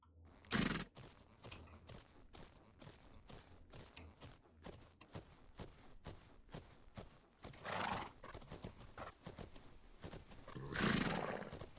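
A horse in a video game gallops with rapid, rhythmic hoofbeats and breaks into several loud whinnies and snorts, close and prominent throughout.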